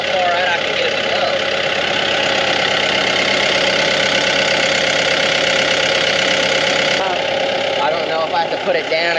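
A broken-down tractor's engine drones steadily and loudly at close range as the loader bucket is lifted, with a slight change in pitch near the end.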